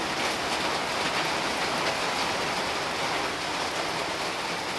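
Heavy rain pours down steadily, a dense, even hiss of drops on surfaces that fills the whole stretch with no voices.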